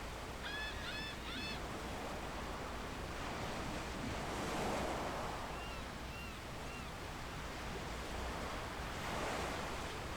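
Ocean surf rolls steadily onto a shoreline in the video game Second Life, a soft, unbroken wash of waves, with a few brief bird honks early on and again midway.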